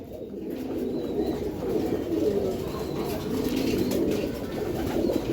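Many Giribaz pigeons gathered together burble a constant low cooing chorus, a dense overlapping hum of birds nearby that never breaks.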